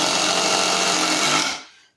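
Milwaukee 18v Fuel Surge impact driver sinking a deck screw, one loud close continuous whirring buzz that runs about a second and a half and then cuts off, alone without talk.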